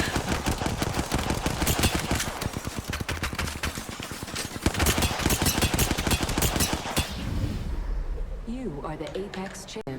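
Rapid, sustained gunfire in Apex Legends, bursts of shots rattling almost continuously for several seconds before fading out, with voices talking over it.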